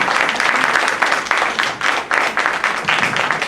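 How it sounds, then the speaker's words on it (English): Audience applause at a live Indian classical music and dance performance: sustained, dense clapping from a sizable crowd, fairly loud and steady, with brief dips and swells throughout and no voices over it. "So let's give another round of applause."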